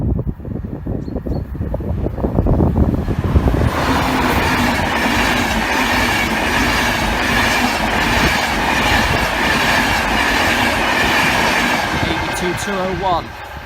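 Flying Scotsman steam locomotive and its train rush past Church Lane level crossing in Nottinghamshire: a loud, close roar builds quickly and carries rapid rhythmic wheel clatter over the crossing for several seconds before easing slightly.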